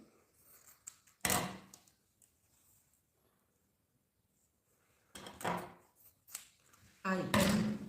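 Scissors cut through fabric while a small sewing case is being made, with short crisp snipping bursts near the start and again after a quiet gap. A voice speaks softly between the cuts.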